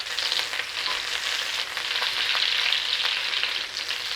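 Sausages browning in a pan ahead of onions and garlic, a steady bright sizzle close up with soft stirring and no talk.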